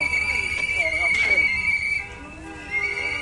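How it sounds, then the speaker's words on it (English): Rape whistles blown by people at an outdoor protest make a steady, shrill, piercing tone that runs almost continuously, with voices and crowd noise mixed underneath. "they're blowing into rape whistles"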